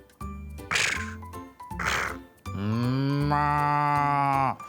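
Cow moos in a children's story about a cow and a wolf, several drawn-out bellows close and loud, the last one long and rising, alone without talk.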